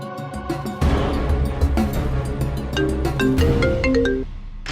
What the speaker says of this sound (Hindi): एक काम करते, साक्षी को फोन लगाते हैं।